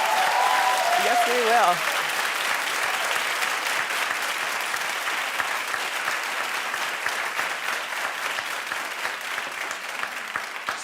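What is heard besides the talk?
audience applause, loud clapping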